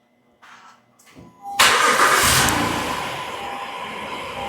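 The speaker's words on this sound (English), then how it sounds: "Lock it and press and hold the engine start button" A 2015 Acura MDX engine cranks briefly after two faint clicks, then catches and settles into a steady, close, loud idle with no talk.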